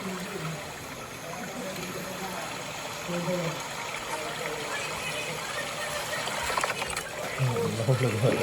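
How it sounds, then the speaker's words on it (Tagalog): Water running and trickling down a rocky mountain hiking trail, a steady close wash that swells slightly toward the end, with faint voices in the background. "how the water is running down."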